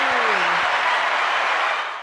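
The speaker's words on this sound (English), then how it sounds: "Round of applause for him," A round of applause for a 14-year-old student's record, a smooth continuous wash of clapping from a group, steady and full before tapering off at the very end, with a faint tone gliding down beneath it.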